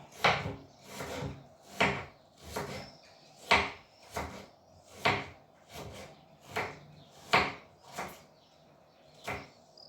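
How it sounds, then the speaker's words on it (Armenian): Knife chopping onion into half-moon slices on a wooden board: about a dozen crisp, evenly spaced cuts in a steady rhythm, close and clear with no talk. "Հիմա սոխը կտրատենք,"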